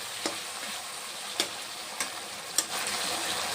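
Fried eggplant pieces go into a pan of cooking masala, giving a soft steady sizzle with a few sharp clicks of a spoon or spatula stirring through it.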